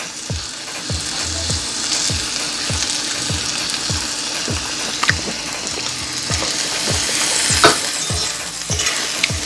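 Asparagus spears fry in a pan on the stove, giving a continuous loud sizzle with repeated rhythmic scraping strokes of stirring, and no talking.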